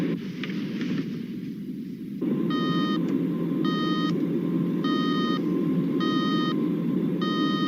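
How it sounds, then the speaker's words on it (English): An electronic alarm in a vintage sci-fi film pulses in evenly spaced bursts of rapid high beeps, about five groups, over a steady low hum, loud and close. "I've got an E-alarm."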